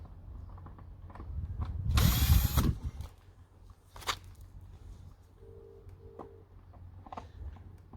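A power drill removing screws from a 2016 Piaggio Medley 125 scooter whirs in a short loud burst, followed by quieter clicks and handling noises, with another brief tool sound later.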